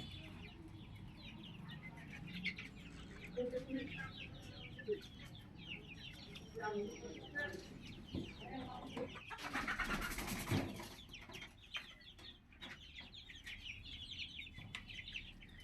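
Chickens inside a coop cluck and squawk as a person enters, a busy mix of close and nearby clucks with bursts of flapping and scuffling, fairly quiet overall.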